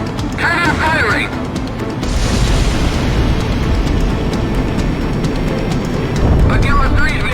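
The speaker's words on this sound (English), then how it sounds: "Cannon firing!" A heavy shock cannon fires in the jet combat game Ace Combat X, a deep, sustained roaring rumble that swells and holds for several seconds while radio voices talk over it.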